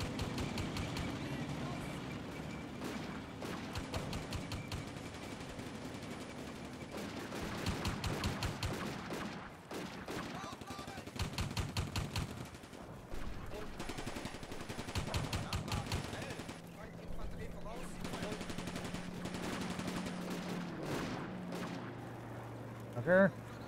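Gunfire in the WWII wargame Combat Mission Afrika Korps, a 1940 battle: repeated bursts of machine-gun fire and scattered shots rattle on and off, moderately distant, with brief gaps and a low engine-like hum late on.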